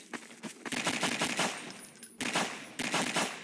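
Dense automatic gunfire in a video game, aimed at a hexapod giant, rattles loudly in sustained bursts with a brief gap near the middle and no speech.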